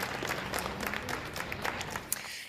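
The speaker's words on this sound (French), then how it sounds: "Philippe de Belgique clôture cette visite d'1h30 sous les applaudissements d'un personnel fatigué" Applause from tired hospital staff at the close of a royal visit by King Philippe of Belgium during the second lockdown, steady clapping throughout, moderately distant and fairly quiet.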